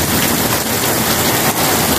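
Heavy rain pours down steadily in a dense, loud, continuous wash during a downpour turning to hail in a town centre, with no pauses.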